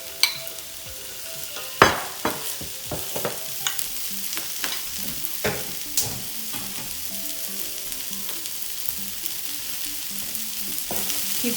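Vegetables sauté in a pan for an Indo-Chinese chicken sizzler, a continuous close sizzle broken by sharp scraping knocks of a spatula as they are stirred, busiest near the start and then settling into a steadier fry.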